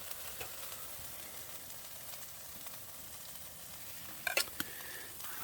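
Steak sizzles in a pan at a wild camp on Blackstairs Mountain with a faint, steady hiss, and a few brief clinks stand out near the end.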